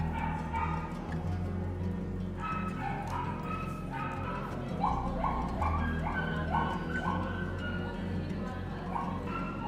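Tina, a rescued mangy dog under treatment at an animal hospital, barks in a string of sharp, repeated yips and woofs through the middle and latter part, set over a low steady hum of indoor background noise.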